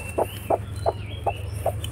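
Farm chickens clucking near a nesting spot where eggs are collected, five short evenly spaced clucks over a low steady background hum, close by.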